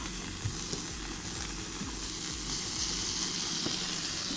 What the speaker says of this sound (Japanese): 待ってろよ、今焼いてっから。